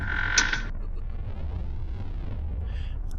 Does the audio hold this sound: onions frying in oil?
no